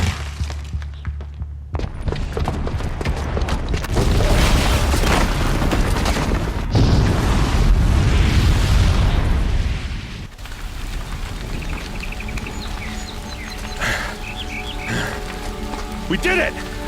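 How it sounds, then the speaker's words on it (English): A bomb blast in the Horizon Zero Dawn video game, loud rumbling booms and crackling debris rolling on for several seconds before dropping to a quieter tail of music and effects. "the booby trap on the bomb downstairs is gonna get set off"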